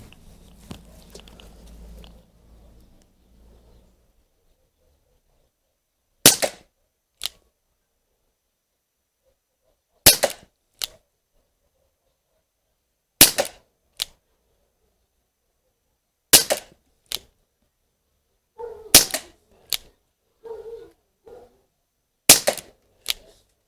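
Sharp, sparse shots from an Umarex UX Tornado CO2 revolver fired at a target, each a crisp pop followed by a softer click, repeated at intervals after a quiet start.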